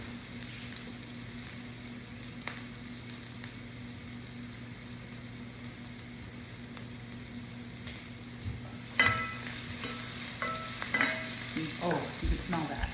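Tilapia fillets fry in a pan with a steady low sizzle and hiss, then brief clatter and scraping sounds near the end as the fish is handled.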